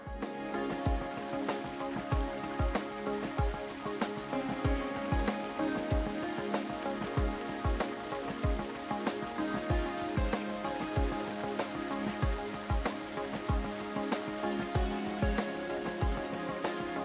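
Rain falling steadily at a cricket ground, a continuous wash of patter with regular low thuds repeating beneath it.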